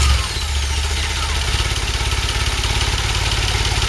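A DeLorean engine cranks and catches, then settles into a loud, steady idle with an even rhythmic pulse, heard up close and alone.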